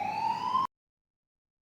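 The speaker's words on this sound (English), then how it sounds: "It's from the ambulance." An ambulance siren wails with a steady rising tone for well under a second, then cuts off abruptly into silence.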